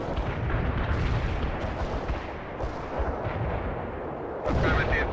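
Artillery strike explosions from the video game World In Conflict, a dense, continuous roar of blasts and rumbling impacts with a fresh loud burst near the end, without talk.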